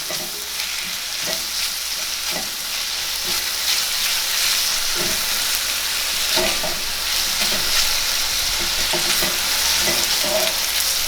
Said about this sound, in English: Going to make sure that this onion and garlic is not burning.